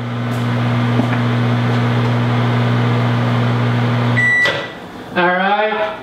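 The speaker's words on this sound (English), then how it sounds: "pop it out of the microwave like that. And needs more than 20 seconds." A microwave oven hums steadily while reheating a 4-day-old pizza, then stops and beeps, followed by the door and a voice speaking up close.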